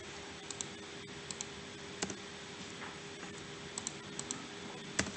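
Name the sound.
typing on a computer keyboard and pressing Enter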